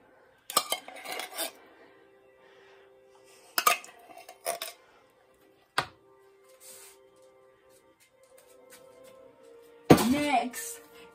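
Cutlery and dishes clink and clatter in short bursts while a spoon is fetched, with a sharp metallic rattle near the end, close by with some talk and quiet gaps between.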